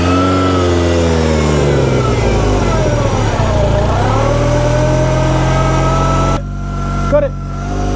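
A track car's engine revs loudly up close, its pitch rising and sweeping for several seconds before it cuts off abruptly, leaving a brief quieter tail with a short voice.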